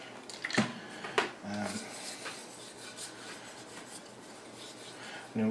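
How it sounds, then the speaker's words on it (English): A steel knife blade being drawn across sandpaper for freehand sharpening, heard as a few scattered rasping strokes, close and fairly quiet, standing alone with no talk. "drawing the blade into the sandpaper"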